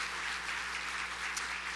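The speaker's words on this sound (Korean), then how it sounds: "박수로 위로하겠습니다" Church congregation clapping together to comfort a missionary's family during a service, a short steady burst of applause from a large gathering heard at a distance with room reverberation and a low hum underneath.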